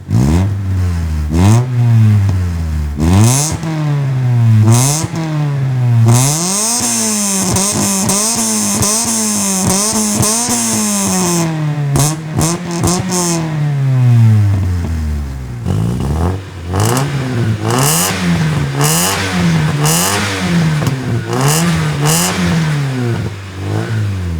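A Chevrolet Nova and a VW Scirocco, each fitted with an aftermarket muffler, are revved up and down again and again, the loud nearby engine notes climbing and dropping in sharp sweeps with clattering bursts between pulls.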